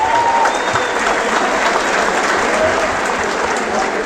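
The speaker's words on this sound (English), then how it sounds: "how about we keep that applause going as we welcome our host" At a 2024 gala for Robert Luongo, a large crowd keeps up loud, sustained applause to welcome the host, an even roar of clapping with a few faint whistles riding on top.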